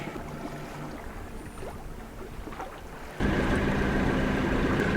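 A sailboat motoring under its engine on a calm day with little wind, a low steady engine drone with water and wind noise, growing suddenly louder and closer partway through.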